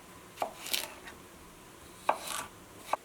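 A knife cutting a V to remove the seeds from a cucumber for pickles on an off-grid cabin canning day: three or four sharp, separate board taps spaced apart, close and crisp over a quiet room.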